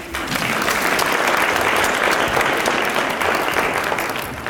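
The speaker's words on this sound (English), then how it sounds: "Let's have one more round of applause for our presenting sponsors" Warm audience applause at a 2019 small business event, a dense, even wash of clapping from a sizable crowd that swells quickly and holds steady, fairly close, with no talk over it.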